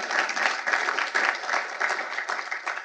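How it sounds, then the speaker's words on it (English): An audience applauds at a talk by Brazil's foreign minister, a steady wash of many hands clapping for about three seconds at moderate level, with no speech over it. "So we should give him a round of applause."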